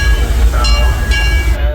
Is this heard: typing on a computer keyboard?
no